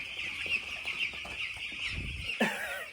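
Chickens cluck softly and continuously inside a large poultry farm holding over 100,000 birds, a faint, dense flock murmur with one sharper call standing out near the end.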